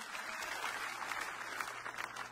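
A church congregation applauding at the Synagogue Church of All Nations, a steady wash of many hands clapping at a distance, fairly faint, with a low hum beneath.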